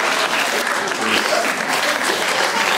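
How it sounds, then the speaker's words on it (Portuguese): Loud, sustained applause from a studio audience at a live hypnosis show, dense clapping filling the whole stretch with faint voices mixed in. "Uma salva de palmas!"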